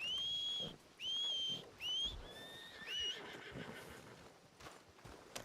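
A horse in the video game Red Dead Redemption 2 whinnies several times in quick high-pitched bursts, followed by softer snorts and a few hoof clops, with no talking.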